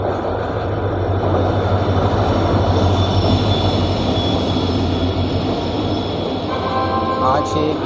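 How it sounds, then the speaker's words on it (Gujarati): A Bikaner express train pulls into platform 4 at Anand Junction, a loud, continuous rolling rumble of wheels and carriages close by, with faint squeal and a short horn-like tone near the end. "અત્યારે અમદાવાદ જવા માટે એક ટ્રેન આવી રહી છે"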